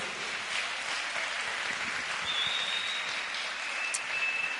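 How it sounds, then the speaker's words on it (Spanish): Steady, dense applause from a church congregation, continuous and fairly distant, with a faint whistle-like tone rising above it. "Dale un aplauso a Jesucristo."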